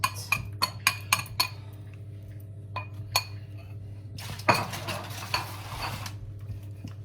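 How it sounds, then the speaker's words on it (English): Spoon clinks and scrapes in a bowl as mixed spice is stirred into a Christmas cake mixture, a run of sharp taps followed by a longer rustling, sliding pour into a pot. "So I'm just going to incorporate that all together, and then that's going into the pot."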